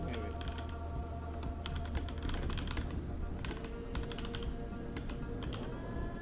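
Rapid computer-keyboard typing during an online tabletop campaign session, a steady run of light, irregular clicks close to the mic over a constant low background hum.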